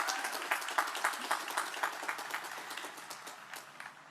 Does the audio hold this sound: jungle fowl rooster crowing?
no